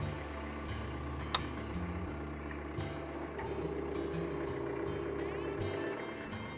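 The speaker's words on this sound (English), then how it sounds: "tractor's working again, hydraulic pressure's back up" A John Deere 485A backhoe's tractor engine runs steadily at idle while its hydraulics work, giving a low, constant mechanical drone with occasional clanks and shifts in pitch, and no talk.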